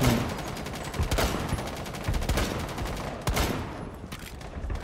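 Rapid bursts of video game gunfire in a zombie outbreak mode crackle almost continuously, with sharp volleys and louder single shots standing out, close and loud like a busy shootout.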